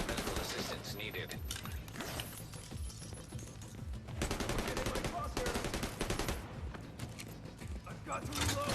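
Gunfire rattles in the Headhunters Fury video game: dense, continuous bursts of shots mixed with mechanical clatter for several seconds, loud throughout.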